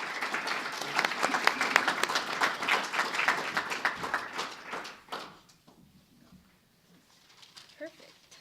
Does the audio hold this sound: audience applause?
yes